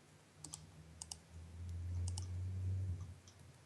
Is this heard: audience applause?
no